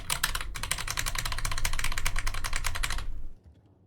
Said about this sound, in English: My keyboard's so noisy.